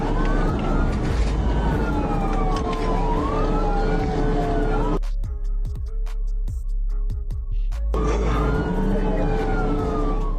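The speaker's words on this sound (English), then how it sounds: "quickly turned into a wild chase that pushed Trooper Neese's squad car to its limits" A police squad car siren wails loudly during a highway chase, sweeping up and down continuously, cutting briefly to rapid yelp-like bursts midway before the wailing resumes, with road and engine noise underneath.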